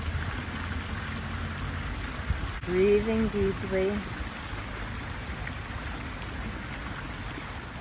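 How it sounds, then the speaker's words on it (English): Water from a stream in Golden Gate Park flows in a steady, close hiss and rush, with a brief murmur of voice and breathing partway through. "I'm sitting beside the stream,"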